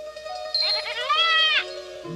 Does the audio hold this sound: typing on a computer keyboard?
no